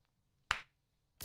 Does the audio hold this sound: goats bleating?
no